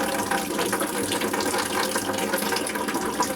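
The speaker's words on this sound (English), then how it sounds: "Dump the water out of there." Water gushing and splashing as it is dumped out of a water filter housing under a running tap, a loud, steady rush up close with no pauses.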